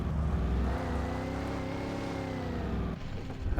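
Car engine in Alan Wake Remastered drones steadily with rising and falling revs while drifting, loud and continuous with a brief dip near the end.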